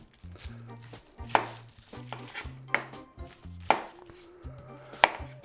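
A knife chops an onion on a cutting board in a kitchen. Several sharp, distinct knocks land against the board at an uneven pace, close and clear with quiet handling noise between them.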